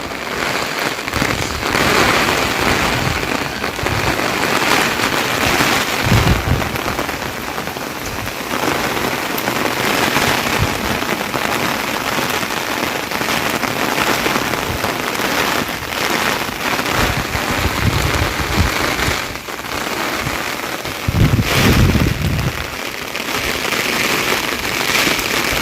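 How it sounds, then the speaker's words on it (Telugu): Steady rain falls on a village, a dense continuous hiss of drops on surfaces lasting throughout, with a few louder splashing bursts and no voices. "వాన పడుతూనే ఉంది చూడండి."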